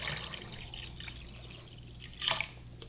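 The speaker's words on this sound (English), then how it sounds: "I'm gonna add another 32 ounces of water." Water is poured into a pot to make a Korean galbi beef marinade, a faint, steady trickle and splash with a brief louder gush near the end and no talking.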